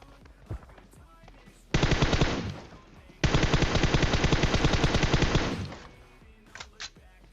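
Video game gunfire in two sustained automatic bursts, the first about 1.5 seconds and the second about 2 seconds, loud and rapid, with scattered fainter shots before and after.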